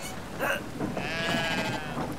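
Sheep bleating in a video game, with a couple of wavering, nasal bleats over a steady low background hum.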